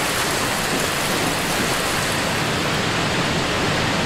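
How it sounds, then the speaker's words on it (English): Waterfall in Dark Souls II rushing as a loud, steady broadband roar of falling water, unbroken and close, with no voices or other sounds over it. "waterfall over here"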